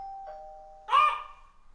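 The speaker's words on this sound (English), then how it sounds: "That's the doorbell." A doorbell sounds indoors: a long steady electronic tone followed by a louder two-note ding-dong chime that rings out and fades, with no talking.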